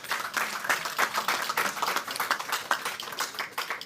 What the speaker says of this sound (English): So please give yourself a huge round of applause for everything you have done,